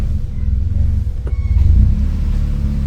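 A car engine rumbles steadily and close while the driver runs through first to fifth and reverse on a gear tester, a brief click or shift clunk partway through, with the low drone swelling slightly afterward.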